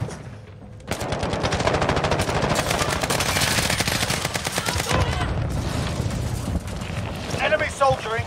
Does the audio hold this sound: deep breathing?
no